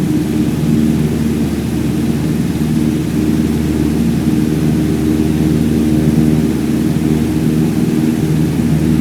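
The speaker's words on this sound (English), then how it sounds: "go full throttle and start climbing" A simulated airplane engine at full throttle during a climb in Microsoft Flight Simulator 2020 gives a loud, steady, dense roar that holds evenly from start to finish, with no talking.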